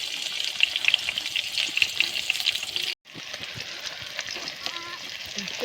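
Chopped onion fries in a pan at an outdoor riverside cooking party, a dense crackling sizzle with stirring scrapes, broken by a short cut midway before the frying hiss resumes at similar loudness.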